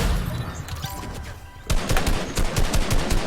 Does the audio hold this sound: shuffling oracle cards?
no